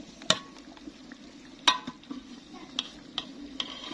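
A spoon mixes beef degi korma in a pot with a few sharp clinks against the metal and soft scraping in between, fairly quiet and close.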